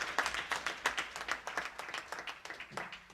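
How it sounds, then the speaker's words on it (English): Audience applause at a government event in the National Assembly setting, a steady patter of many hands clapping throughout at moderate volume, with no speech over it. "Give him a round of applause."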